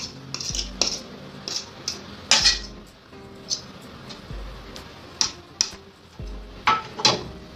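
A fork works cold butter into flour for pâte brisée dough in a bowl, giving sharp clinks and scrapes in an irregular rhythm of separate strokes, fairly close and moderately loud, with no talking.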